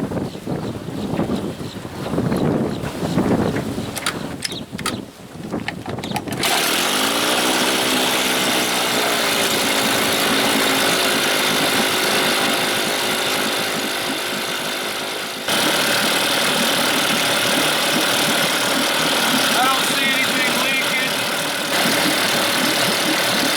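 A 1983 Evinrude 25 hp outboard motor runs with its thermostat removed, first sputtering through a few uneven catches, then settling into a loud, steady idle that drones on close by, with a short dip partway through.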